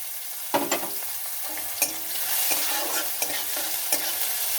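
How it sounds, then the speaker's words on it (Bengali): Chopped onions frying in a pan with bay leaf, cardamom, cloves and dried red chillies, a steady sizzle running throughout with several sharp stirring scrapes and clinks, close and alone with no voices. "পেঁয়াজগুলো একটু ভেজে নেব।"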